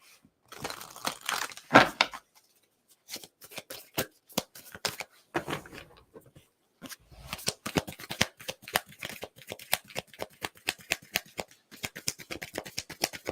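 Tarot cards shuffled by hand to draw a card, a rapid run of crisp riffling flicks that pauses briefly, then resumes in a steady dense patter, close and alone without talk.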